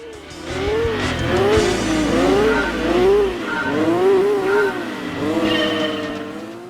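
Race cars in Gran Turismo 2 rev and drift with rising and falling engine tones and squealing tires, loud and continuous throughout with no talking.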